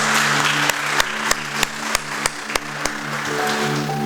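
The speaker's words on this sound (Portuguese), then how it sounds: "Você pode dar uma salva de palmas para o Senhor?" Church congregation applauding in praise, a dense wash of many hands with several sharper, rhythmic claps standing out roughly every third of a second, alongside a low sustained organ or keyboard tone.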